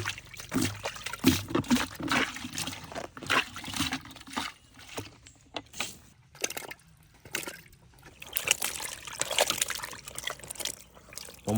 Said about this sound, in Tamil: இப்போ முந்திரி பழத்தை தண்ணியில் போட்டு நல்லா கழுவி எடுத்தாச்சு.